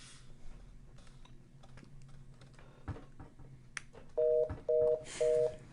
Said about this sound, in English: Dial tone.